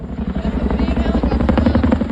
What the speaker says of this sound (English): A big helicopter and a big sight for sore eyes.